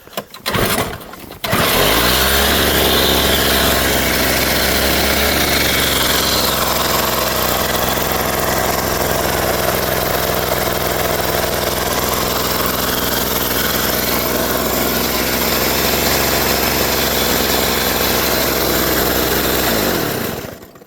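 A 1979 Toro S-140 14-inch two-cycle snowblower, in like-new condition, starts unchoked from a warm garage and runs steadily and loudly for about twenty seconds, a continuous buzzing engine drone close by with no talking.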